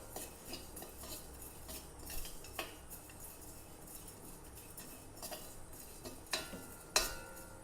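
Spices warmed in a dry pan on the stove, with scattered light scrapes and clinks of a spoon stirring against metal, faint and close, in irregular bursts over low background noise.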